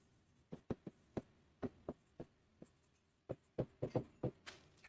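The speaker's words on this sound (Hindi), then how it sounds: "एक और एक्सप्रेशन आपके सामने लिखता हूं" Chalk or marker tapping and scratching across a classroom board in a quick series of short, distinct strokes, close up and fairly quiet, with no talking.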